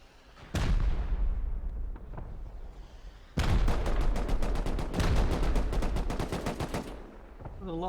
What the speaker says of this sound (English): A lot of rockets coming in now.